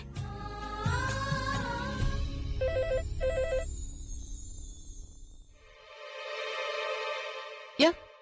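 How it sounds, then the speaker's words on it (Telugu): A telephone rings in short repeated bursts after some talk, followed by a longer electronic ringtone tone and a sharp click at the end. "నేను ప్రజ్ఞకి ఫోన్ చేసి చెప్తాను."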